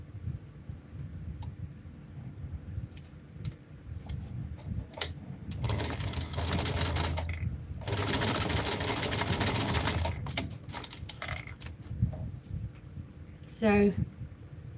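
A sewing machine stitches through the corner where two fabric pieces meet, its motor whirring in short close bursts with pauses between, while a person talks over parts of it.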